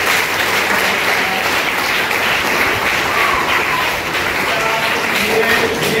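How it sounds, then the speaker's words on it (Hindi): Loud, dense applause from an audience at a school sports guidance lecture, continuous and even throughout with no break, only faint voices mixed into the clapping. "ये जो तालियां थी ये दिल से बजाई है"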